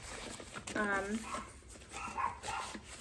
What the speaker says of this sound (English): my dogs are gonna bark.